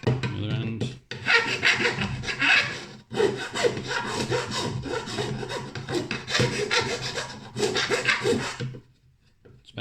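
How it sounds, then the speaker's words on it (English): A hand file scrapes burrs off freshly drilled holes in a plastic enclosure, close and continuous. Quick rasping strokes stop briefly a few times before fading out, with no talk. "I'm just going to use a file now to just to take all the burring off the edges."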